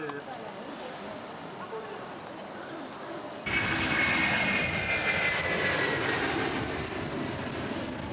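Aircraft engine on a flight to Pyongyang, a steady cabin drone that starts low, then jumps to a louder, brighter roar partway through and holds there until the end.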